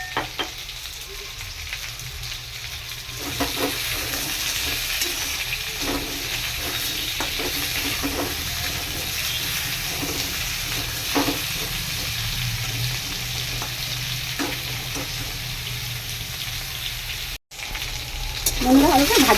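Potatoes fry in a pan with a steady sizzle, broken by occasional stirring scrapes and a brief water-like splash, continuous and close throughout.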